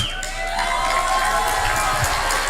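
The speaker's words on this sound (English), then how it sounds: "give a huge round of applause to Sensei Dave Armstrong." A standing crowd at a speaking event in Estonia cheering and shouting loudly, with whoops rising over a dense wash of applause that continues throughout.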